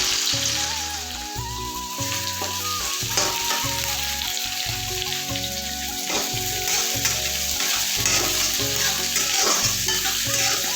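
Onions sizzle steadily in hot oil for a fish curry, a continuous crackling hiss under soft background music.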